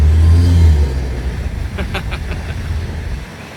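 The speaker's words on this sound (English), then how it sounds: "you can hear the snorkel immediately" A 4th-gen Toyota Tacoma engine breathing through a snorkel intake revs with a loud, deep rumble for about a second, then settles into a lower, steady engine drone.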